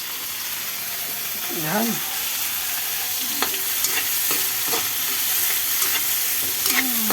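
Tomatoes sizzle and fry in a pan, stirred with a steady scraping over a constant hiss, with a voice speaking briefly now and then.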